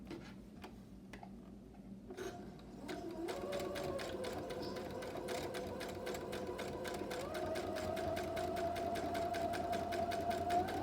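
A sewing machine stitches bag material in steady, rapid ticking bursts that start softly and then run continuously and close, with a faint mechanical hum underneath.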